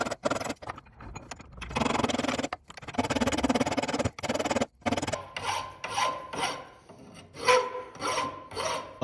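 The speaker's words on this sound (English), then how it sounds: "So I filed the tenon on the pin, I filed on the hasp" A forged steel padlock's hasp and pin tenon being filed by hand in a forge workshop, with bursts of rasping strokes, first in longer runs and then in a steady series of shorter, evenly spaced pushes, close and fairly loud.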